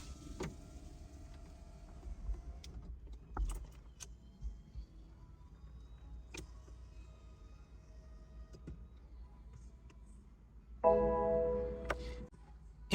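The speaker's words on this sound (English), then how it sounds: "to put your roof down in park, just make sure your foot is firmly on the brake and push and hold this switch down" BMW Z4 convertible roof retracting with the car in park, a faint whirring motor hum with scattered clicks and ticks, rising into a louder mechanical whine near the end, with no talking.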